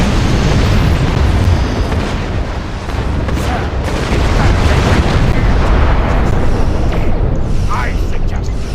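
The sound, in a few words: torpedo hits exploding in Star Trek Online video game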